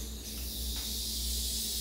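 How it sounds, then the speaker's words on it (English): A freshly opened 2-liter bottle of Inca Kola, a golden fruity soda, fizzing as its carbonation releases. The hiss is a steady, close, continuous fizz with no talk. "So you can hear the carbonation releasing."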